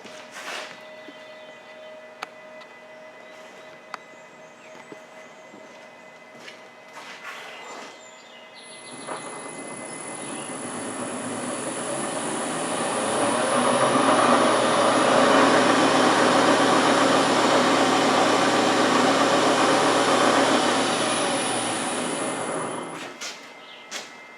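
An electric motor drives an LT230 transfer case in low range during a speed test, starting up partway through and building to a steady, loud whining hum with a low drone, then cutting off near the end.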